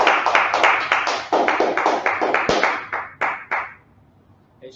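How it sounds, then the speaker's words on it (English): Rhythmic group clapping at a religious gathering, a series of sharp, evenly spaced claps in a steady beat that slows and fades into quiet near the end. "Clap it up."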